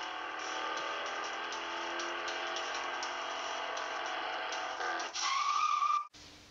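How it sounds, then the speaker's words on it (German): A car laps a race track in a simple switch-controlled video game, its steady engine drone running for several seconds before a brief squeal of tires and an abrupt stop. "Als Belohnung fährt dieses Auto dann einige Runden auf der Rennstrecke."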